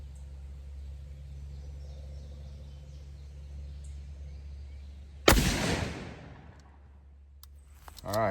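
A single loud shotgun blast from a Mossberg 940 Pro firing 1 oz Fox Trot ammo outdoors, a sharp crack at about five seconds that rolls off into a long fading echo over a steady low background rumble.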